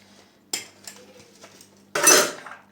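Dishes and cutlery being washed clink and clatter in a few separate knocks, followed by a louder scraping rattle of metal against crockery.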